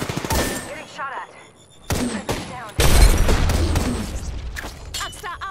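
Video game gunfire bursts and booms up close, loud rattling volleys and heavy blasts mixed with game announcer voice lines and other sound effects.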